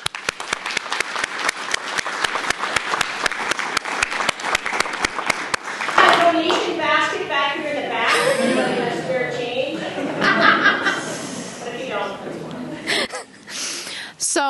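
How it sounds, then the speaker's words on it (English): An audience at an academic induction ceremony applauds after a talk, crisp clapping for about six seconds that gives way to lively chatter, chuckles and speech from the crowd. "I'd love to give another round of applause to Tina for that amazing talk."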